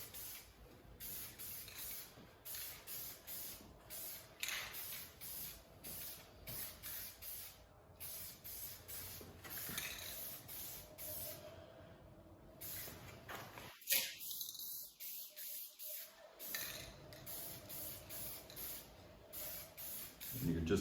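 Aerosol spray paint hissing onto a rifle in repeated bursts as the can sweeps back and forth, close and steady, with a short pause partway through.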